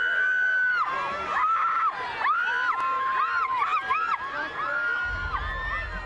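Fans at the Harry Potter and the Deathly Hallows Part 2 film premiere scream in a dense, high-pitched chorus of many overlapping shrieks and wails, sustained and loud, with cheering mixed in and some talk underneath.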